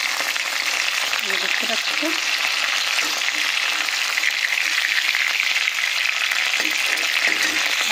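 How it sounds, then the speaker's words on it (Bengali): Foli fish sizzle and crackle in hot oil, a loud, steady frying hiss running throughout, with occasional stirring clatter and a brief voice speaking over it. "সেই একইভাবে বাকি মাছগুলোকে আমরা ভেজে নিচ্ছি।"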